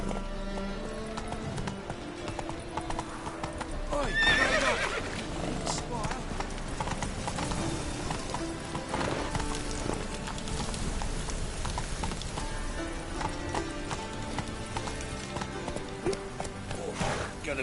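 In The Witcher 3, the horse Roach gallops with rhythmic hoofbeats and an occasional whinny. Game music and speech run underneath the hoofbeats.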